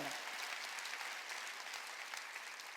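A congregation claps steadily at a Korean church Sunday service, with dense, sustained applause throughout that is loud and even from start to finish.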